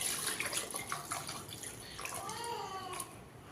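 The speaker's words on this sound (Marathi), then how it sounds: "तर इथे मी थंड पाणी घालून घेते" Cold water pours from a tap into a pot of fresh butter for washing, a quiet running splash and gurgle that trickles and bubbles as the pot fills, heard alone without talk.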